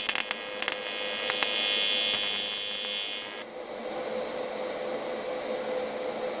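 PrimeWeld 225 TIG welder running an AC arc, a loud steady buzzing hum that cuts off sharply partway through, leaving quieter background noise.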